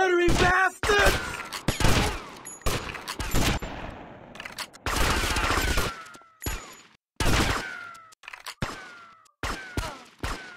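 Sniper rifle gunfire and other shots in Grand Theft Auto: Vice City, with sharp bursts repeating irregularly among in-game effects and brief silences, loud and close throughout.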